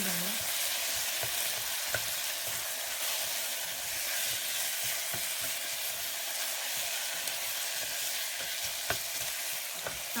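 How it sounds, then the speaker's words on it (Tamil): Tomatoes are mashed and fried with softened onions in a pan for ridge gourd kurma, giving a loud, continuous sizzle close by, with scattered scrapes and taps of stirring throughout and no talking. "இப்போ இதில் தக்காளி ஆட் பண்ணிக்கோங்க. நல்லா அதை கொஞ்சம் மசிச்சு விடுங்க."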